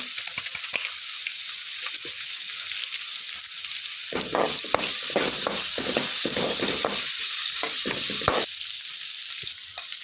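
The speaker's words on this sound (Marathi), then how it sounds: "बटाटो 1-2 मिनिटां फ्राय केल्यार पुरो." Potato pieces frying in a pan with dal-style Konkani cooking, a steady close hiss throughout, joined midway by a run of scraping stir strokes and clinks from about four to eight seconds, with no voices.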